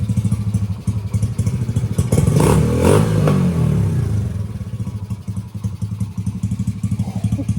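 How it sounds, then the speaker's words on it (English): A small 1985 Honda ATC70 ATV engine, upgraded to 125cc, putters at a steady, rapid idle after carburetor adjustment, briefly revving louder in the middle before settling back to a loping chug. "And now she's idling good."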